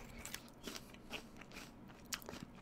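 Someone bites into and chews a cold, crunchy SugarBee apple, giving several sharp, wet crunches and crackles spaced across the stretch, quiet and close to the mic with no speech.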